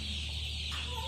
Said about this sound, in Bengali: দেশি মুরগি গুলো